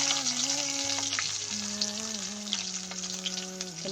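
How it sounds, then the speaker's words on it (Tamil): Onions frying in a little oil for crab gravy, a continuous close sizzle and crackle in the pan with faint music-like tones running underneath. "கொஞ்சமாக எண்ணெய் சேர்த்துக்கலாம். இந்த மாதிரி வெங்காயம் சேர்த்துக்கலாம்."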